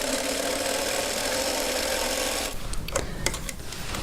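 A sewing machine stitches a scant quarter-inch seam on a quilt block, giving a steady close mechanical whir. It stops after about two and a half seconds, and a few faint clicks follow.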